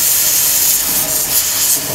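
Eurofine pressure washer jet spraying water onto a car, a loud steady high hiss of pressurized spray with slight fluctuations, close and continuous, with no talking.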